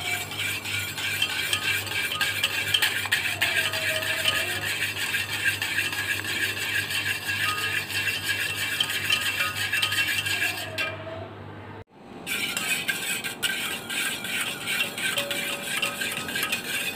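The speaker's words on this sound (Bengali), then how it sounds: "দুধগুলো জাল দিয়ে তারপরে এইভাবে অনবরত কিছুক্ষণ নাড়তে হবে যাতে" Boiled milk for yogurt being stirred continuously in a pot, a steady scraping and clinking of a spoon against metal running throughout, with a brief break near the end.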